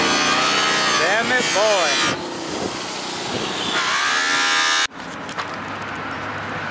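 A machine polishes truck rims for a mobile polishing service, giving a loud, steady whirring grind with shifting pitch sweeps and a brief drop near the end, while someone talks over it.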